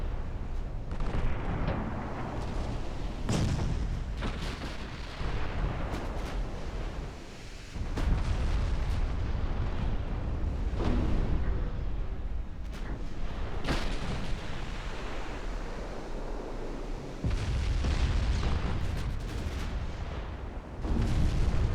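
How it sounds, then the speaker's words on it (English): In a naval warfare game, 14-inch shells strike battleships with repeated heavy booms and rumbling blasts. Several sharp impacts rise above a continuous low roar of distant gunfire. "14-inch shells are hitting Bellerophon."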